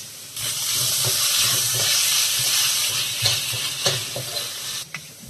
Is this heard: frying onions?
yes